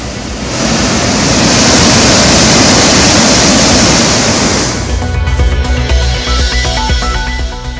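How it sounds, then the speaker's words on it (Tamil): Water roars over Hogenakkal falls on the swollen Kaveri river, a loud, dense rushing wash for about four seconds before cutting to a quieter, different scene. "ஒகேனக்கல் காவிரி ஆற்றில் நீர்வரத்து 5000 கனஅடியாக அதிகரிப்பு, அறிவுகளில் ஆர்ப்பரித்து கொட்டும் நீர்."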